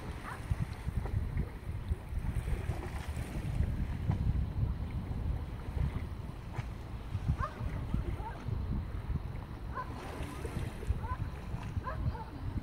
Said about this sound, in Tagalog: Naririnig nyo po ba yung hampas nung alon doon sa mga bato?